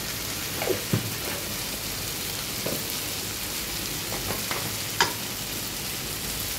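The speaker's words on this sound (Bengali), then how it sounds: "এইভাবে আমি আবারও 1 থেকে 2 মিনিট এগুলিকে নাড়াচাড়া করে নেব ঠিক এইভাবে" Paneer tarka ingredients stirred in a frying pan give a soft steady sizzle with occasional light spatula taps and scrapes, a sharper clink near the end.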